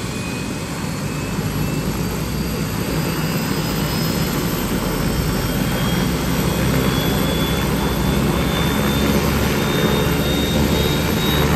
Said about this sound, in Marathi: जसा जसा पंखा फिरतोय तसा आवाज पण वाढतोय बघा.